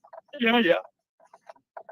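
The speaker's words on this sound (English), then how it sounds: "You see, I heard your yawn." A person yawning once, a drawn-out voiced exhale lasting under half a second, close and fairly quiet, followed by faint scattered speech fragments.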